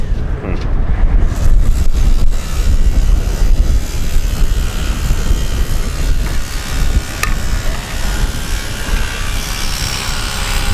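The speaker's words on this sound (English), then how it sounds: "all that noise is coming from the jackhammer there that Nick is operating" A jackhammer breaks rock at an outdoor dinosaur excavation quarry in Utah, a loud continuous rattling roar that fills the whole stretch without pause.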